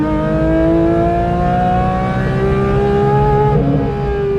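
A Porsche 911 GT3's rear-mounted flat-six boxer engine revs loud and close, a smooth rising and falling howl with clear harmonic tones, heard alone without talking.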